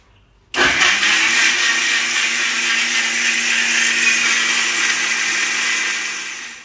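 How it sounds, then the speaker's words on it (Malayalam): A blender whirs loudly and steadily after starting abruptly, running for several seconds as honey, milk, strawberries and banana are blended into a milkshake, then easing slightly at the end. "അപ്പൊ നമുക്ക് ഈ പാലും ഇട്ട് കൊടുത്തിട്ട് ബ്ലെൻഡ് ചെയ്യാം നമുക്ക് ശരിക്കും ബ്ലെൻഡ് ചെയ്തെടുക്കാം"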